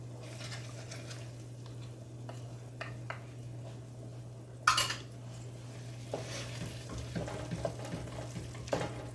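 Plain yogurt being stirred into hamburger stroganoff in a pan, a soft steady scraping and stirring with faint sizzling, a few light clinks of utensil on pan, and one louder knock partway through.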